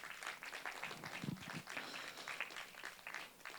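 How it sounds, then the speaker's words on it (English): Applause from a crowd, a fairly soft, steady patter of many hands clapping together for a few seconds. "Round of applause for him, please."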